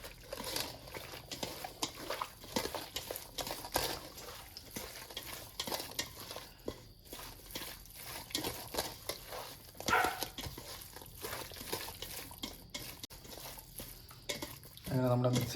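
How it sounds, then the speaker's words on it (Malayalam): Fish pieces are mixed by hand with pepper powder, turmeric and salt for a Kerala-style fish pickle. The stirring makes soft, irregular wet squelches and scrapes, fairly quiet and close. "ഇനി നമുക്കിതെല്ലാം കൂടെ ഒന്ന് മിക്സ് ചെയ്തെടുക്കാം"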